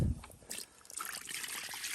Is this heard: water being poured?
yes